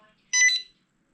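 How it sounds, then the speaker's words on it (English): A Spektrum transmitter, an NX8 binding with a DXS trainer transmitter, gives a short electronic beep, a single bright tonal bleep with a quick double pulse that stops cleanly into silence. "it beeps, and the other one said bind complete."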